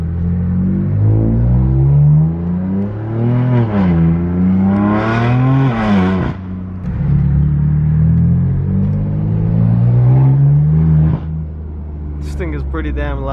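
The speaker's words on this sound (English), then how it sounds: "I'll also get a clip of the exhaust because it sounds pretty good." Exhaust of a BMW F80 M3/F82 M4 while driving, a loud deep rumble rising and falling through repeated revs and gear changes, close and prominent.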